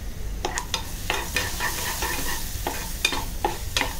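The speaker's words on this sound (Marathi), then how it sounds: "आणि आता हे छान आपण परतून घेऊया." Brinjal and potato sautéed with Malvani masala in hot oil, a steady soft sizzle broken by repeated scraping strokes of a spoon stirring the pan, close and moderately loud, with no talking.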